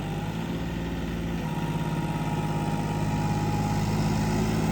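A new John Deere 5210 4x4 tractor pulling a 15-tine cultivator in a farm field, its diesel engine running close by in a steady, continuous low drone with an even throb and no voices.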